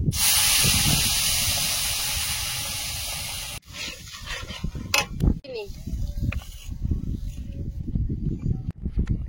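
Dry chili, bay leaves and whole mustard seeds hit hot oil with a loud, steady sizzling hiss that drops to a softer crackle after a few seconds, and a voice talks over it.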